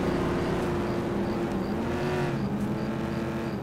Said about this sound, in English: Man, those cars are loud.